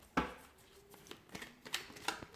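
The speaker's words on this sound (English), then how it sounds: "give the cards a shuffle, and see what messages are coming in for you here" A deck of tarot cards being shuffled by hand: a few separate dry riffles and snaps, close by and fairly quiet, with short pauses between bursts and no talk.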